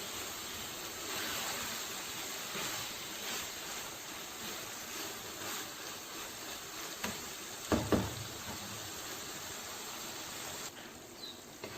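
Keema (minced meat) and kachnar buds frying in a pan give off a steady, even sizzle and hiss throughout, with a couple of louder spatters near the end.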